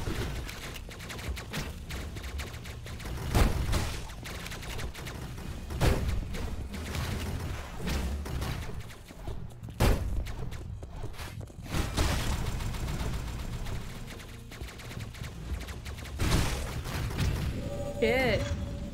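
Rapid gunfire from a weapon in the action game Hyper Light Drifter, sounding as repeated sharp bursts over a steady bed of game music and effects, with a person talking over it.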